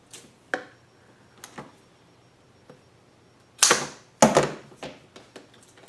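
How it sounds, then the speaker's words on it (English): Cutting a 13-inch length of 1/4 inch fuel hose for a Predator 8750 generator fuel kit, a few light clicks and snips followed by two louder, close crunching cuts, heard alone without talk. "take our section of 1/4 inch hose, and we're going to cut a 13-inch section of that."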